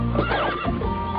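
A horse whinnies in a long, wavering neigh, close and loud over a steady low hum, set in a lighthearted children's science show about horses.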